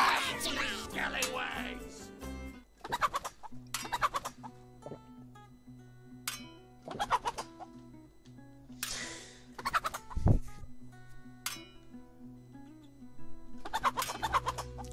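A chicken clucking in the video game Pixel Piracy, repeated short clucks over looping game music and sound effects, with someone talking excitedly.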